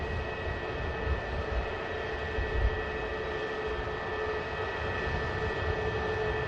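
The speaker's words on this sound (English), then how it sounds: "the EasyJet for Amsterdam now finally on the move" An EasyJet airliner bound for Amsterdam taxis at Manchester Airport, its jet engines giving a steady whining hum with a constant high tone, heard from a distance without talk.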